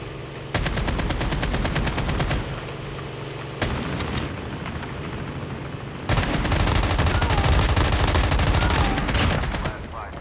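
Rapid hip-fire gunshots in Call of Duty: Mobile battle royale, heard as loud sustained automatic bursts with brief pauses between strings of shots, close and dominant throughout.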